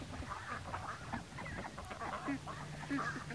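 A flock of farm ducks, raised and hatched on a homestead, quacks and honks in a steady overlapping chatter outdoors, moderately near with a faint steady hum underneath.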